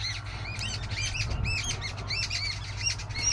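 Many birds chirp and tweet in quick repeated calls, with fluttering wings and a low hum underneath, fairly close.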